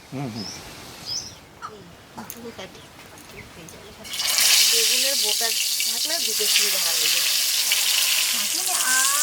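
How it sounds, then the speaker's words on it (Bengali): Brinjal drops into hot mustard oil in a wok at an outdoor winter picnic and bursts into a loud, steady sizzle about halfway through. People talk before and over the frying, and birds chirp in the background. "বেগুন ভাজার জন্য কড়াইতে সর্ষের তেল দিয়ে দিচ্ছি"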